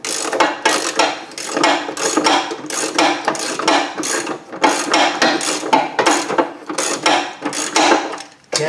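A ratchet clicks in quick, repeated bursts while driving a bolt into the rear subframe of a 2000 Ford Focus, each run of mechanical ticks close and fairly loud, with short pauses between strokes.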